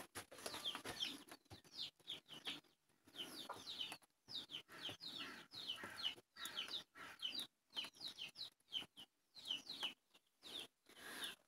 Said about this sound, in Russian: а там второй петух старается